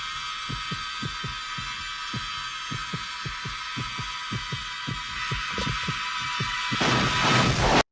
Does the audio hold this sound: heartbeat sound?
yes